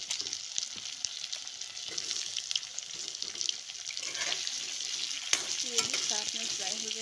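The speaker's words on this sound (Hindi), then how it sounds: "तो आलू को भी फ्राई होने के लिए हम दे देते हैं।" Potatoes fry in chicken leg piece masala with a soft steady sizzle, punctuated by stirring scrapes and a few clinks, with a faint voice-like tone near the end.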